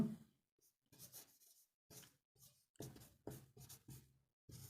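Pen strokes writing a sentence by hand, heard as bursts of scratching separated by short pauses, close and quiet with no speech.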